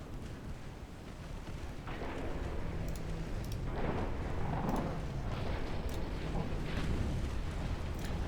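Deep rumbling blasts from a torpedo striking a warship in a naval combat game, a continuous heavy low roar that swells after the first two seconds and stays dense with crackling bursts, a voice barely present underneath.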